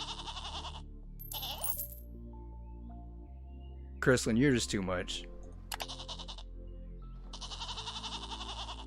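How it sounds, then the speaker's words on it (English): Goats in the farm simulation game Megastore Simulator let out a loud wavering bleat in the middle, surrounded by chiming coin-like game effects, with a person talking briefly. "The goats will not stop."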